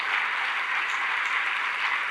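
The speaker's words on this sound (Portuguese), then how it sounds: "Isso, vamos aplaudir." Church congregation applauding together during a worship service, a steady dense wash of clapping held at even loudness throughout, with no voices over it.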